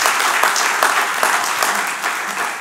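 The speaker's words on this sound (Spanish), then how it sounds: "Vamos a darle un aplauso." A church congregation breaks into loud, dense applause, many hands clapping together close by in a steady burst that fades slightly toward the end.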